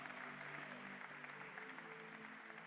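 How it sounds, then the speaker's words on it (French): A congregation claps together at a church revival convention in Rotterdam, producing a steady, dense wash of applause that stays faint and even for the whole stretch. "Kunnen we klappen voor Jezus?"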